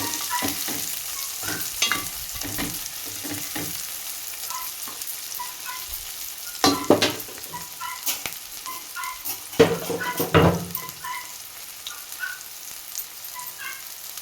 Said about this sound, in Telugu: ఇదిగోండి కొంచెం జీడిపప్పు వేసి కొంచెం ఇలాగా కలిపి